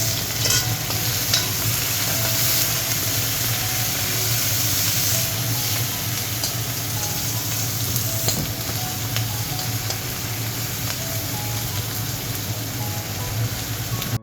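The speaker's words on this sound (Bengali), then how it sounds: "পেঁয়াজগুলোকে লাল লাল করে ভেজে নেব" Onions frying in a pan for a Bengali katla fish dish, a steady close sizzle with occasional spatter and stirring scrapes, continuous and fairly loud with no talking.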